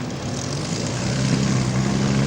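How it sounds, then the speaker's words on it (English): A Hawker Hurricane propeller fighter lands at an airshow, its engine a steady, loud, droning rumble with no pauses, rising slightly as it passes. "Landing Hurricane."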